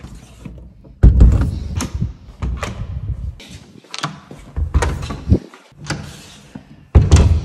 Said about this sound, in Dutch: ik ga denk ik alle deuren sluiten